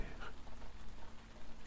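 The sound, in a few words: light rain falling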